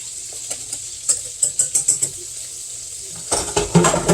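Chicken is stirred into alfredo sauce in a pan, a series of close, wet rhythmic scrapes and clinks, followed by a louder burst of sizzling and stirring at the end.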